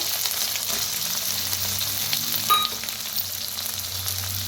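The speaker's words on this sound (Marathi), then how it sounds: "त्याच्यातच अद्रक लसूणची पेस्ट टाकूया एक चम्मच भर, भाजून घेऊया" Ginger-garlic paste and tomato frying in a pan, a steady close hiss of sizzling oil with a single sharp clink of a utensil midway and no talking.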